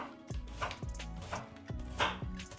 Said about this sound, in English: Peel the onions, then cut them into halves and cut each half into thin slices.